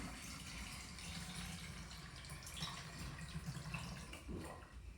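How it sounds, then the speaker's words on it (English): Homemade kombucha streams through a funnel into a jar, a faint, continuous trickle and splash of liquid with small gurgles near the end, and no talking. "put it right through the funnel and into your jar"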